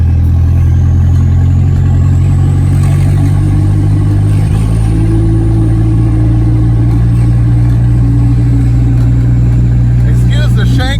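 A Mitsubishi Starquest's engine runs at a loud, steady idle close by, with a deep rumble and a brief rise in revs partway through.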